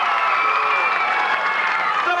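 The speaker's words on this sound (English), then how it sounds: "A huge round of applause for this gentleman" A live audience's roar of cheering and applause for a hypnotized man on stage fills the whole moment, dense and continuous, with scattered shouts in the crowd.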